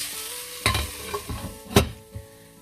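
Karela (bitter gourd) sabzi cooking in a pan on a gas stove, with a low steady sizzle broken by a few louder scraping stirs and clatters, no talk.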